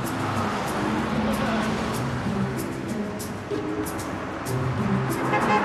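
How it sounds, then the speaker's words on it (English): Road traffic rolls past a street corner in a continuous loud wash of engines and tyres, with vehicles passing close by. "The traffic, it's unreal."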